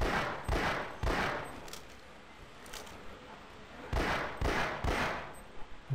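Pistol shots fired at barnacles in the video game Half-Life: Source: about seven sharp, loud cracks in two clusters separated by a quieter pause, each with a short echoing tail, and no talking.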